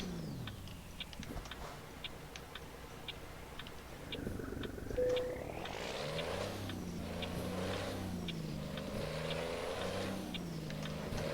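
A heavy truck's engine brake in American Truck Simulator, heard from the outside view: a deep, loud, sustained rumble with stepped drops in pitch over a steady engine drone, with no talking.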